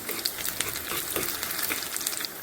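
A tempering for coconut chutney fries in a pan, a close, bright sizzle full of quick pops and crackles that holds steady throughout, with no talking.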